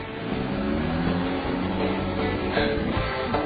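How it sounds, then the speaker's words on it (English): A car backs out of a garage in a radio drama, a steady mid-level engine rumble with a slight rise in revs, continuous and fairly close; no talk. "I hear the electric garage door open and the car backs out"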